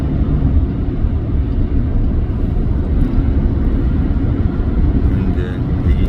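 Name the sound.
Hyundai Veracruz accelerating during road test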